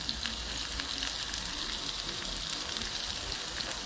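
Dedo de moça chili pepper and garlic sautéing in a pan, a steady close sizzle and crackle of frying with no pauses, no voices over it.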